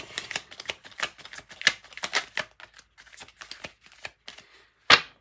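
Tarot cards being shuffled by hand, a run of quick papery riffles and slaps with brief pauses, close and fairly quiet, ending in one sharper snap of cards.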